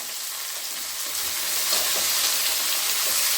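Spices tempering in hot oil for an aloo soybean curry, a steady close hiss and crackle of frying that swells slightly midway and holds without pause, no voices over it.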